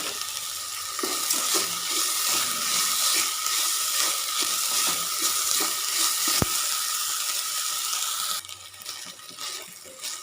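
Sliced onions sautéing with salt in a pan for a coconut-roasted chicken curry, a steady broadband sizzle with light scrapes of stirring throughout, close and even, with no talking.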